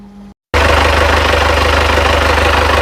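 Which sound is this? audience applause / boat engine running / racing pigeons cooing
boat engine running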